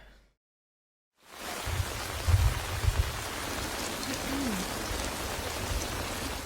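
Steady heavy rain pours down in a war drama scene, a dense continuous hiss starting abruptly after a moment of silence, with low rumbling thuds early on.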